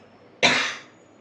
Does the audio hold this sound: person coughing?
yes